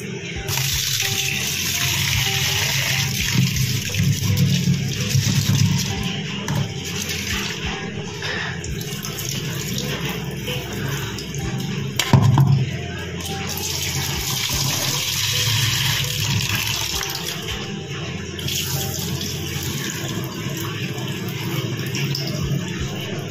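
Mixed dal lentils being washed in water make steady splashing and swishing with running-water rush, fairly loud and continuous, with a brief louder slosh near the middle.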